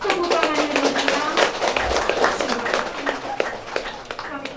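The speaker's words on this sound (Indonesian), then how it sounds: "Tepuk tangan yang meriah." Clapping from a gathering at a Catholic church inauguration in a rural hamlet, brisk irregular handclaps close by mixed with voices talking.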